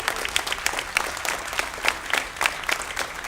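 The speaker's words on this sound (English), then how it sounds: "Sounds like there's more MorroW fans in the crowd than there are Sjow fans" A crowd at a DreamHack StarCraft II tournament in Sweden cheers and claps for the Zerg player MorroW, a dense, steady roar of applause with scattered shouts and whistles.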